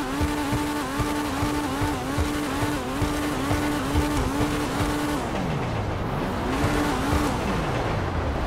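Growler sports car engine in GTA Online, a loud, steady high-revving drone with quick gear-shift steps, then dipping and rising in pitch as it slows and accelerates again, with faint tire noise.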